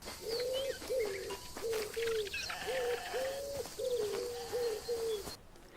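A pigeon coos repeatedly in soft, rounded notes, a steady rhythmic series over faint background ambience with other birds chirping distantly, in the video game Alba: A Wildlife Adventure.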